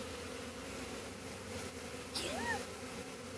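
A swarm of honeybees buzzes steadily throughout, a dense continuous drone outdoors with a few brief whistling sounds passing over it near the end.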